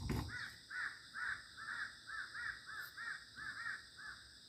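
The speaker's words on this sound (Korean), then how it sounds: "여기가 까치마을이라 까치가 많이 오네요" Magpies in a village give a rapid series of harsh chattering calls, about a dozen bursts in steady rhythm, moderately distant and faint against a quiet background.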